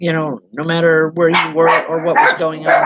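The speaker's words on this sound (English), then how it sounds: "I apologize for the dogs." Dogs indoors bark and yip in several short bursts, loud and close, overlapping a person who keeps talking.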